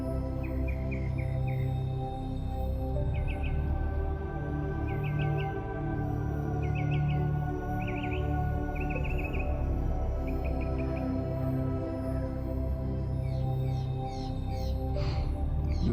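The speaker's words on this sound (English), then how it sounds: "And the birds are singing like any other morning." Morning birdsong, short repeated chirping phrases in bursts over a steady low rumbling background hum, fairly faint and distant, with one crow-like call near the end.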